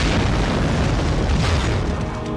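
Sustained booming explosion from the video game Medal of Honor: Rising Sun, set in the Pearl Harbor attack, a loud, dense rumbling roar that fills the whole clip with no voices.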